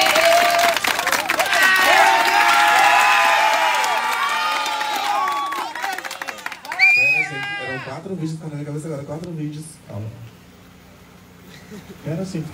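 A lively crowd at a holiday camp gathering claps and cheers with shouts and whoops for about six seconds, then people talk loudly in the room.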